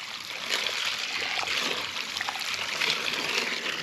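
Water poured out to form a puddle for mixing concrete by hand, a steady close splashing trickle that runs on without a break.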